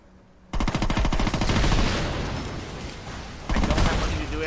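Loud rifle fire in a video game: rapid automatic bursts crackle hard from about half a second in, settle into a steady roar, then a fresh bright burst kicks in near the end.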